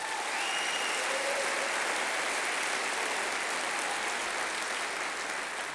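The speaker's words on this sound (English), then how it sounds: "let's give them a big round of applause" Sustained audience applause fills a city-government State of the City address, steady and dense throughout with no talk over it.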